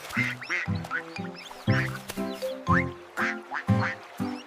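Ducks quack repeatedly in quick bursts, several loud nasal calls close by, with brief gaps between them and no speech.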